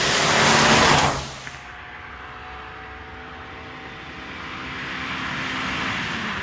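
A Suzuki Swift Sport hatchback engine revs hard, loud at first and then dropping sharply to a lower, steadier drone that slowly builds again, heard from inside the car without talk.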